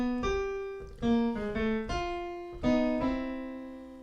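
A blues lick with added major thirds plays as a series of clear, close plucked notes and double stops, each attack ringing and decaying before the next in a relaxed, uneven phrase.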